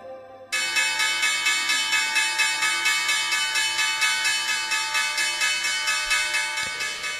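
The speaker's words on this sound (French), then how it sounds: "c'est la cloche de Wall Street qui sonne à la hausse" The Wall Street stock exchange bell rings in a rapid, steady stream of metallic strikes that starts abruptly and carries on loud and unbroken for about seven seconds, with nothing else over it.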